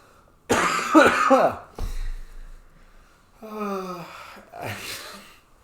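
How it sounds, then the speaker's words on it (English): Several harsh bursts of coughing and throat clearing, close by, with short gasping breaths between them. "Oh God, I'm gonna cough."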